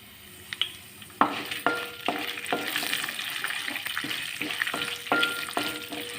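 Spices crackle and sizzle in hot oil as tempering for tomato-coriander chutney, sharp pops at the start settling into a steady loud hiss, close by.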